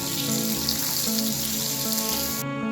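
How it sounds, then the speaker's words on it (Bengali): Pointed gourd pieces fry in hot mustard oil with a steady, even sizzle that runs continuously beneath looping background music. "পটলটা এরকম লাল লাল করে আমি ভেজে নিয়েছি"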